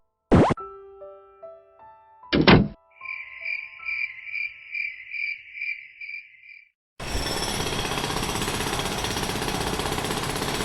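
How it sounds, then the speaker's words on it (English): In a cartoon, two boinging plops and a chirping trill give way to a loud, rapid, continuous rattling hammer like a jackhammer pounding nearby at 2 in the morning. "who's ever using a jackhammer at 2 in the morning better stop it"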